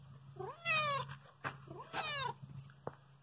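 An elderly cat, roughly 22 years old, meows twice loudly and close by with a pause between, over a low background hum and a few faint clicks.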